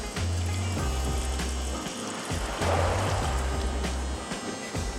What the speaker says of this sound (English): I'm just going to show you that the water works with the filter.